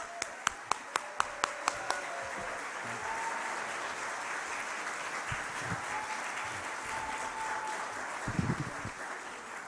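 At a healthcare rally on Long Island, a few sharp, evenly spaced claps open the stretch before a crowd's applause settles into a steady, fairly distant patter that carries on to the end.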